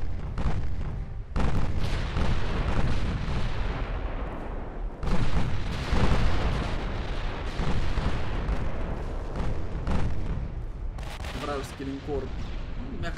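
Heavy naval gunfire from battleships in the naval warfare game Ultimate Admiral: Dreadnoughts, with repeated loud booming salvos and rumbling blasts close up, layered under an ongoing game soundscape with short sharp bursts near the end.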